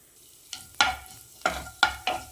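Mustard seeds and cumin sizzling in hot coconut oil for millet kichidi, with a steady fry hiss broken by five sharp bursts as the seeds hit the pan and pop, close and fairly loud.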